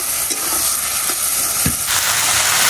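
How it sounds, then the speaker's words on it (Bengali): Malabar spinach (pui shak) sizzles and hisses steadily in hot oil, loud and close, with a few soft stirring knocks, and the frying swells brighter near the end. "পুঁই শাক ভাজি হচ্ছে"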